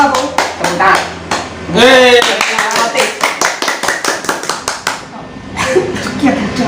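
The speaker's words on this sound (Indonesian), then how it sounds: "tepuk tangan" Hand clapping at an informal chat, a short burst of claps followed by scattered rhythmic taps, close and mixed with overlapping talk and laughter.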